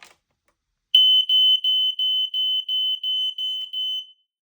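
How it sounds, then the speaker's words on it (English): An Ei 150 series smoke alarm shrieks in a series of about nine loud, evenly spaced high-pitched beeps after a brief click, then stops. "I'm going to set the alarm off in 3, 2, 1."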